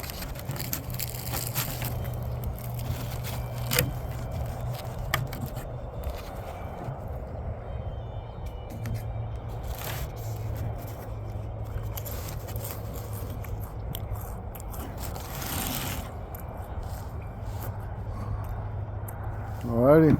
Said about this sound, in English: Go ahead and cut into it here.